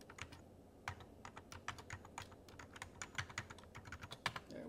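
A password is typed on a computer keyboard as a run of close, crisp keystrokes in an uneven rhythm with short pauses, and nobody speaks.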